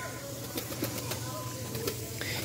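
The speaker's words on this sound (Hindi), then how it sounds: "चेक कर सकते हैं आप कबूतर।" Pet pigeons coo softly on a rooftop loft, several birds murmuring over a low steady background hum, with someone talking nearby.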